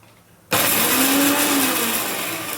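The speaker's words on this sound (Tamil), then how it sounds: "இப்போ இதையும் அரைக்க போகிறோம் எல்லாமே சும்மா ஒரு ஓட்டு அவ்வளோதான் நல்லா தூளாயிடும் மிக்சி நல்லா இருக்கணும்" A kitchen mixer grinder switches on abruptly and whirs at a steady, loud, high-pitched whine while grinding spice powder, with a slight pitch drift as it runs.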